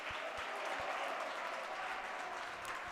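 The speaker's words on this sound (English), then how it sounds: "A nice applaud there for Sade Lemons, the senior, checking out for the final time." Crowd applause in a gym for senior Sade Lemons as she checks out of a women's college basketball game, LTU against UM-Dearborn, a steady wash of clapping with a few low thumps underneath.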